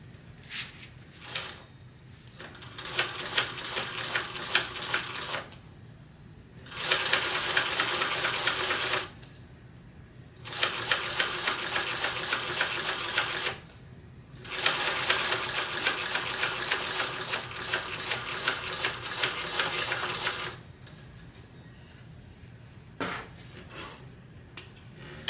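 Sewing machine topstitching an eighth of an inch from the edge, several sustained runs of rapid close stitching separated by short pauses, steady and fairly loud with no speech.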